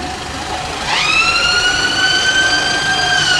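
An emergency vehicle siren sweeps up sharply and holds a loud, rising-and-falling tone, heard from fairly close over London street noise near Charing Cross Station.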